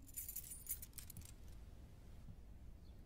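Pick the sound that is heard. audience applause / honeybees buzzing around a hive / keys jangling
keys jangling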